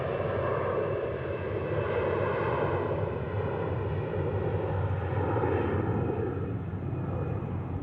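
An airliner passes at Zurich Airport with a steady, loud engine roar that holds evenly for several seconds, with no talk over it.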